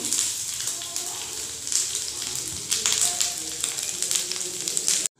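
Finely chopped fresh turmeric fries on a low flame, giving a steady close sizzle with light crackles that runs continuously for about five seconds before cutting off.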